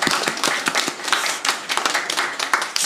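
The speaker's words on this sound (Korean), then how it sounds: "그 오셨으니까 축하의 박수 한번 쳐드릴까요?" A church congregation claps in welcome for two visiting ministers at a Sunday worship service, a brisk scattered applause of many hands filling the room at steady loudness.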